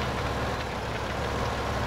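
Tractor engine from Farming Simulator 2015 runs steadily with a low, even rumble and a faint knocking texture while pulling a cultivator, holding constant loudness throughout with no talk.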